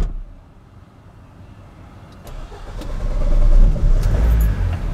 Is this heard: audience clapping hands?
no